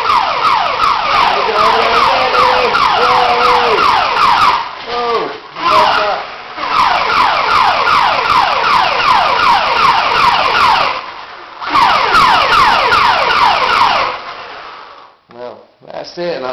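A New Bright toy fire truck blares a loud electronic siren, a rapid repeating wail that runs steadily for several seconds, cuts out briefly, then resumes before fading, with a voice talking faintly underneath.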